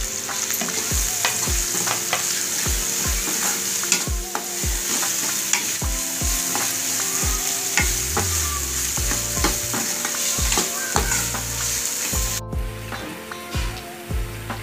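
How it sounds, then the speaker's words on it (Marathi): Onion sautéing in a pan with a coarse ginger, garlic and chili paste for restaurant-style crispy soybean chilli, giving a loud continuous sizzle broken by regular rhythmic scrapes and knocks of a spatula; no voices. "कांदा आपला थोडासा फ्राय झालेला आहे"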